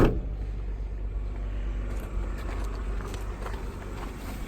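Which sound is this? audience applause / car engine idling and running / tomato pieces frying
car engine idling and running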